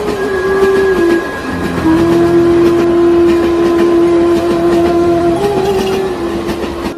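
Cartoon train rolling along a railway track, with a long steady horn tone held over continuous rumbling wheel and rail noise, loud and close throughout.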